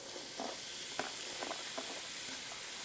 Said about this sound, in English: in the same skillet, we're going to add our veggies